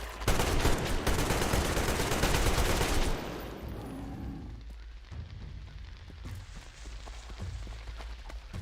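Gunfire in Metro Exodus crackles as dense, loud rapid shots for about three seconds, then drops to scattered fainter pops and a lingering rumble.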